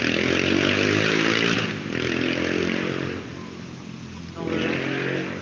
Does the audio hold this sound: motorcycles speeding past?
yes